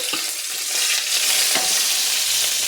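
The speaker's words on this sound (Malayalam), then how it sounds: "വേപ്പിൻ്റെ ഇല ഇട്ട് കൊടുത്തു." Curry leaves and mustard seeds sizzling in hot oil in a pan for a chutney tempering, a loud continuous hiss with a few sharp crackles and pops close by, no voices.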